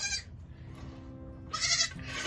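A Nigerian Dwarf goat bleats during milking, two loud, close cries at the start and again near the end, with a low steady hum and faint rustling between them.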